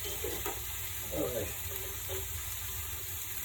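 Lox, eggs and onions frying in a pan for breakfast, a steady sizzle running underneath with a few brief stirring scrapes near the start.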